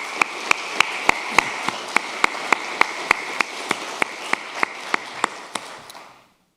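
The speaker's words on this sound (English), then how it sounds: "Give yourself a round of applause." An audience at a university annual progress report event applauds with a continuous wash of clapping and one sharp, evenly spaced clap standing out, before the sound fades out near the end.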